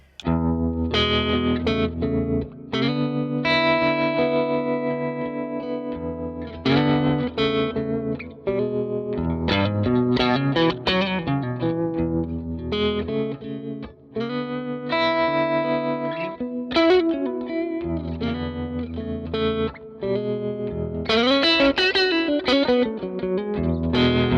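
A clean electric guitar, played through an Archetype: Mateus Asa amp plugin, plays chords and short melodic lines with a pulsing tremolo and a wash of reverb, steady and fairly loud, with no voices.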